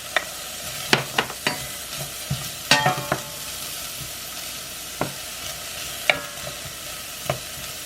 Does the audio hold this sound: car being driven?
no